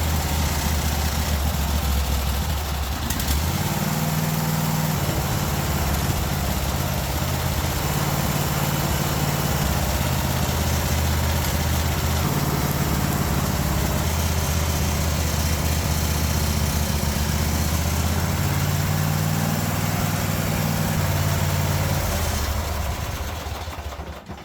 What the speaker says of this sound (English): It's running off the gas in the tank.